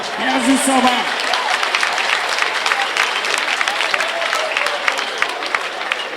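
A church congregation claps and cheers in praise of the Lord, a dense, lively wash of applause and voices, loud and sustained throughout after a brief sung or spoken note at the start.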